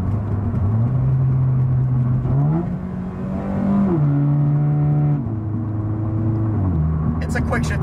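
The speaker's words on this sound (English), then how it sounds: "we're going to do a little bit more than half throttle here and a light acceleration" A Toyota 86 / Subaru BRZ engine accelerates at a little over half throttle, its pitch climbing then dropping in steps as the automatic transmission shifts through gears.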